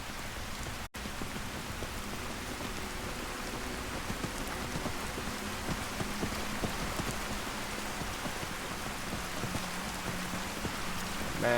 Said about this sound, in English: It's raining. First time I've seen rain on Solstheim.